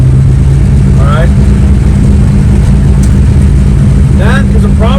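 A 1965 Chevy Nova engine keeps running after the key is turned off, making a steady loud low rumble throughout. A voice talks over it.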